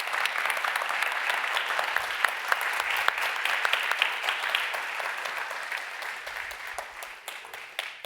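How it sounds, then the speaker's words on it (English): An audience applauding at an awards ceremony at a global solutions summit, a dense, steady round of clapping that gradually fades toward the end. "Let's give them all a round of applause."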